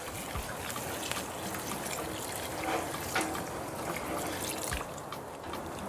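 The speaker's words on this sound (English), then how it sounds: "we're going to add in enough water to cover the corn." Water is poured steadily into a pot of Trini curried corn with coconut milk, a continuous splashing trickle close by with no talking.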